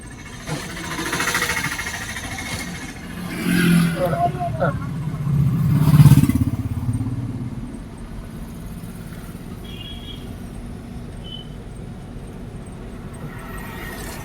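A car engine pulls steadily in first gear during a driving lesson, its low hum swelling slightly as the accelerator is pressed, then settling back, while people talk over it.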